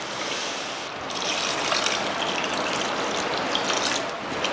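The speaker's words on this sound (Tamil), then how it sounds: "மசால் போட்டு நல்லா இந்த மாதிரி எண்ணெய் பிரிகிற அளவுக்கு வதக்கி விட்டுட்டு இப்போ தண்ணி சேர்த்துக்கலாம்." Water poured into a pan of sautéed masala for egg curry, a steady hissing, bubbling wash that holds for several seconds, close and moderately loud with no talk.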